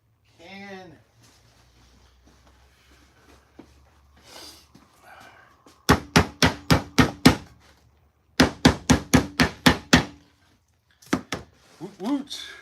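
A hammer taps down the lid of a can of wood stain in two quick bursts of sharp, evenly spaced blows, close and loud, with scattered bumps and brief talk before and after.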